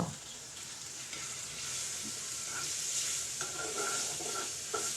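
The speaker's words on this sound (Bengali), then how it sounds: "দিয়ে দিচ্ছি এখানে কেটে নেওয়া টমেটোগুলো টমেটো দিয়েও এখানে আমি তিন চার মিনিটের মতো একটু কষিয়ে নেব" Chopped tomatoes sizzle and fry in a spice paste in a pan for a vegetarian okra dish, a steady close hiss with occasional light stirring scrapes and no talk.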